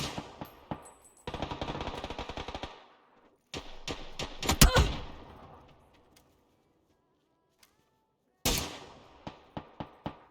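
Grenades and molotovs in a PUBG-style battle royale esports match: sharp bursts and clustered pops of explosions and gunfire, one louder blast in the middle, separated by stretches of near silence.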